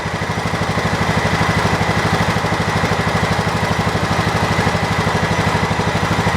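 A new engine on a John Deere 225 zero-turn mower runs at steady speed, a loud, close, rapidly pulsing mechanical drone with an even chugging rhythm throughout.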